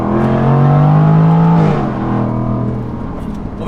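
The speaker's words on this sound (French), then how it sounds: "Oh là là, le son du moteur." Jaguar F-Type V8 revving hard from close by, one rising engine roar that tops out and then drops back to a rumbling idle, heard alone.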